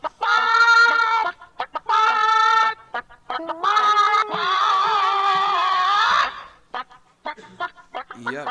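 A Chicken Impossible sound clip plays chicken clucking in loud, rhythmic, tuneful bursts separated by short gaps, with a long sustained squawking phrase in the middle and choppy clucks at the end.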